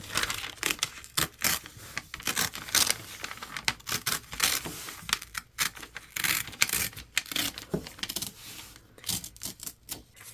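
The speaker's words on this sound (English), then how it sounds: "So I'm just going to keep creasing and ripping all the way down." Perforated foundation paper is creased and torn away from quilt blocks in a long run of crisp, uneven ripping and crinkling bursts, close up and bright, with brief pauses between tears.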